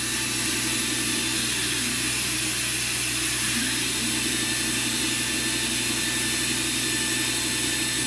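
A machine tool spindle spinning steadily at 4,000 RPM gives a continuous, even whine with a broad hiss and a low hum beneath, holding unchanged throughout with no talk.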